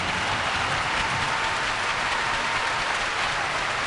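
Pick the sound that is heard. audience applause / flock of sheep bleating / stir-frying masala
audience applause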